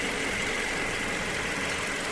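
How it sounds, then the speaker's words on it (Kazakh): A 2-litre car engine idles smoothly, a steady close-up hum and whir with an even, unbroken drone for the whole moment, no voices heard. "Мотору дагы жакшы экен, мындай ровно жүрүп турат."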